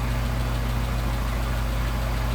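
Steady idle of an engine fitted with a Solex carburetor being adjusted on test, a constant low drone with even harmonic hum, close and alone with no voices.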